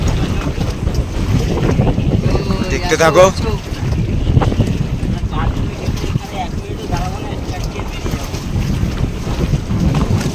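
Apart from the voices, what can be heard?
strong river waves rocking a boat, wind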